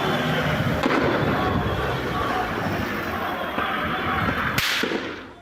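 Gunfire at a camp in Abu Dis during the Israel–Hamas war: a dense, continuous crackle of loud sharp reports with a strong burst near the end, heard up close with no talk.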